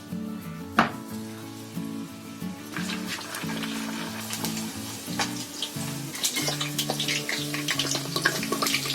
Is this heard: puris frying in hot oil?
yes